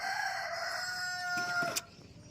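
A rooster crows once in a sustained, tonal call that fades out abruptly, heard a little distant with faint ambient noise after it and no talk.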